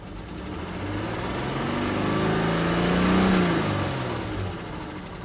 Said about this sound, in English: It sounds like this thing has spun a bearing.